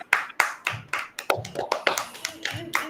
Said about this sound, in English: Can you all give a big round of clap for Devkrish before he starts?